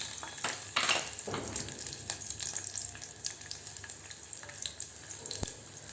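Chopped garlic, mustard seeds, ajwain and cumin sizzle in hot oil for a tadka, a steady crackling hiss with small pops, fairly soft and continuous.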